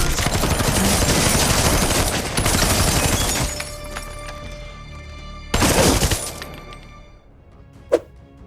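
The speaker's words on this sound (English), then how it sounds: "Just a moment after reading the text, Zeke pulls out a submachine gun and unloads a barrage of bullets into Shawn" A submachine gun rattles off a long rapid burst, pauses, then fires a second shorter burst, followed by a single sharp metallic clink.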